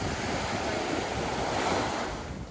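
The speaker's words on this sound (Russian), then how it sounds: "Это волны бьются" Sea waves breaking on a Spanish shore make a loud, continuous broadband wash with wind buffeting the microphone, surging steadily then easing slightly at the end, with no talk.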